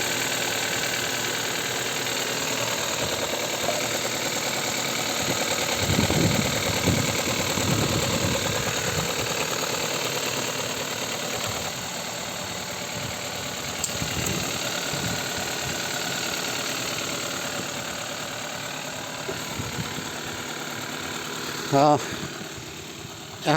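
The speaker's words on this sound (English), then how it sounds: "Just recording the engine running." A Hyundai Tucson with some accident damage idles steadily at close range, a low even engine hum with faint knocking texture running throughout, a few brief thumps and a short click near the end.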